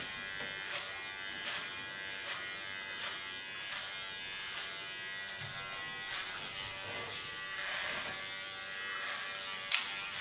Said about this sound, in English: I can guide my clipper better through the hairs than with a clipper comb